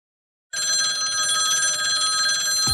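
A telephone rings suddenly after a brief silence, a bright continuous electronic-bell trill, loud and close, heard alone.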